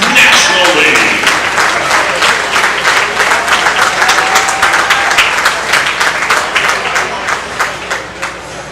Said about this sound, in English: how about a big round of applause for the Power Showcase 13U National League